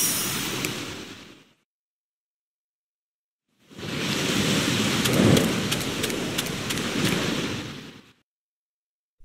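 Thunderstorm in the One Piece Odyssey video game: steady heavy rain hiss with low thunder rumbles, cutting out to silence for a couple of seconds before the storm returns loud and dense, with no talk.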